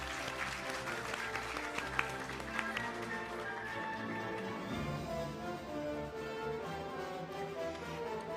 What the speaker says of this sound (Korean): 올라오실 때 여러분 큰 박수 부탁드립니다.